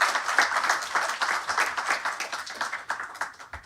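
A room full of people at a forum opening clapping steadily, a dense patter of hands that keeps going at an even level.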